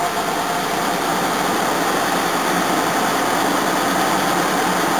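A Jaguar XJ40 car engine idles steadily nearby, a loud, continuous hum with an even rumble and no change in pace, with no voices heard.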